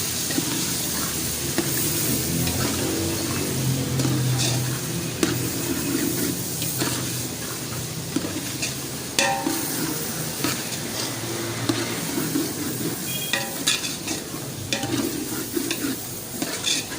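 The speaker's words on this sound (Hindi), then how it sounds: "ये बारीक कटी हुई हरी मिर्चें, और इसको मिक्स कर दे अच्छी तरह से।" Whole white cumin seeds and finely chopped green chillies being stirred in a hot pan for a restaurant-style mixed vegetable dish, with a continuous close sizzle and repeated spoon scrapes and clatters throughout.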